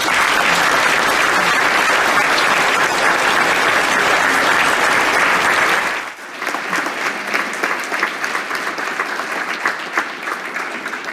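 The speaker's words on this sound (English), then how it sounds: "If we can have another round of applause, please." Loud, sustained applause from a ceremony audience at a Defense POW/MIA Accounting Agency event fills the first six seconds, then drops to softer, continuing clapping.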